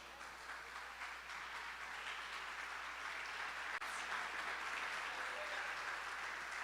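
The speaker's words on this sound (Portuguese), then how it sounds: "Tome o seu assento, aplaudindo a Jesus bem forte" Dense, continuous applause from a large church congregation, steady and fairly loud throughout with no pauses.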